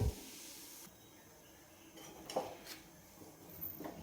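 A wok set onto a kitchen stove for butter chicken, a soft clunk of metal followed by faint clinks and scrapes in a quiet room.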